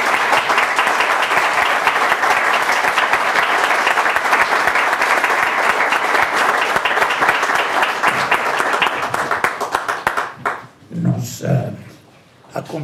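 Welcoming applause for a guest at a book presentation, a dense, steady round of clapping from the audience that thins out near the end as a voice begins speaking.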